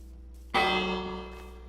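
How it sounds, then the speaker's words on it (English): Village bell rung in Minecraft: a single bright, sudden metallic strike that rings out and slowly fades over about a second, heard alone over a low steady hum. "let's ring the bell again."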